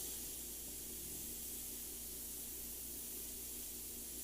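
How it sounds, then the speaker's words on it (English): Faint, steady hiss of an airbrush spraying black paint, an unbroken airy stream with a low hum beneath it and no talking. "So what I'm doing is I'm just kind of spraying in where the trees are going to be."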